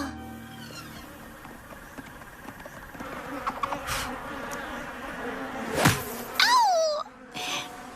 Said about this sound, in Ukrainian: Мені набридли ці жахливі мухи.